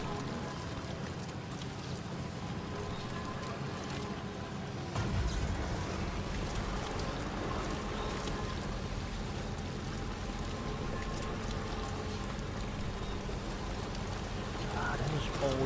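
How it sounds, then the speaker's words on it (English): Steady rain falls in the video game Death Stranding 2, a continuous hiss and patter with a low rumbling vehicle-like drone underneath that swells slightly midway, with no one speaking. "God, it is always raining over here."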